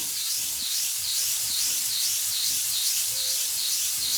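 Hand polishing of a jasper stone to work out a deep divot, a steady soft rubbing hiss running continuously and fairly close throughout, with no talk.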